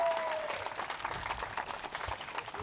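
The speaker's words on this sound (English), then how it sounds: "it seems like he got a little bit of home crowd cheers there" A crowd at a disc golf tournament, the Jonesboro Open, claps and cheers for disc golfer Chris Dickerson, with steady applause filling the short moment and faint voices underneath.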